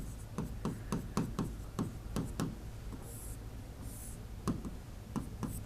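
Handwriting on a board or page during a lesson on Mughal painting: a run of short, quiet scratching strokes in bursts, with a steady low hum underneath and no speech.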